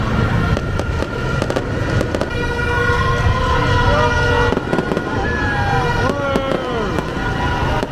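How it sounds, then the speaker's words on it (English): Dense, continuous crackling and popping bursts of New Year's Eve fireworks in the streets of Kuala Lumpur, Malaysia, with a siren wailing and crowd voices underneath. "There's fireworks, people in the streets."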